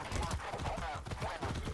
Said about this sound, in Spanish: Qué bonito, caballo.